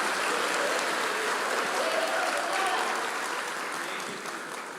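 A church congregation applauds steadily during a gratitude sermon, a dense, sustained wash of many hands clapping at moderate distance that keeps going throughout and fades slightly near the end.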